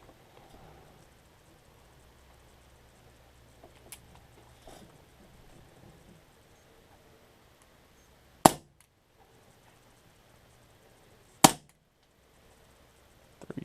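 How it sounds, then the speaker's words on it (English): A CO2-powered PFAM98 air pistol firing in single-shot mode, two sharp, close cracks a few seconds apart over quiet room tone, with faint handling noises before them. "This will be in single fire mode, and we'll see how many viable shots we can get out of a cartridge."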